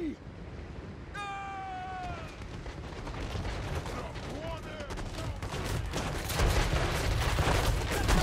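Units firing in a battle in Total War: Warhammer 3, with steady dense volleys of gunfire and cracking shots that build louder toward the end, joined by a brief whining effect early on.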